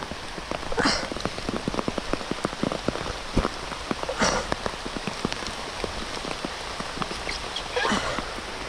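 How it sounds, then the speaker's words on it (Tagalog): Heavy rain pours down outdoors by rice paddies during a thunderstorm, a dense, steady hiss of drops hitting the ground and nearby surfaces, with a few louder splashes and brief gusty swells. "Kasabay ng malakas na ulan,"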